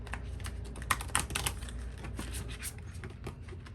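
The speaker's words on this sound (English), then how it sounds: "One more riffle." Round tarot cards are riffle shuffled, giving a rapid, close patter of crisp card flicks that cluster in a short burst and then trail off into softer rustling.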